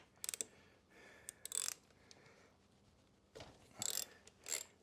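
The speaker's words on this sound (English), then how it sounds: "Make sure you use a good ratchet, not this terrible husky one." A Husky ratchet works loose a motorcycle rear wheel bolt on a 250 Ninja, giving quiet bursts of rapid clicking, two short runs early and two more near the end, close up and with no talk.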